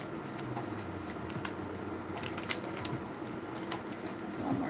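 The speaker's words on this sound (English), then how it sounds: "I'm trying to shuffle" A deck of tarot cards is shuffled during a live reading, giving soft, scattered riffling and light flicking sounds against a quiet room background.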